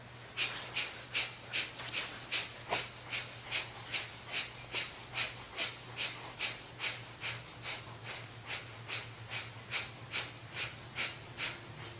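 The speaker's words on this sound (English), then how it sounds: "Keep the breath of fire going no matter what." Breath of fire yoga breathing: a quick, even train of forceful nasal exhales, about two per second, close and rhythmic, with a faint steady hum underneath.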